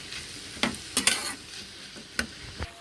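Grated carrots stir-fried slowly in a pan for gajar ka halwa, with a few distinct scraping strokes of a spatula over a soft sizzle, close and fairly loud.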